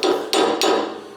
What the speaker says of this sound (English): And we will hammer the shaft in.